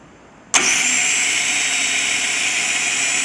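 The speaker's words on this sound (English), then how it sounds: "So now what I'm going to do is power up the starter" A car starter motor is powered up on a bench from a booster pack. Silence breaks into a sudden loud whir that holds steady and continuous to the end.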